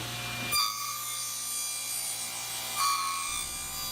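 Wooden mallet head, carved from a wild tree, clamped vertically and slid across a saw blade in a woodworking shop: two brief scraping rubs about two seconds apart over a steady machine hum.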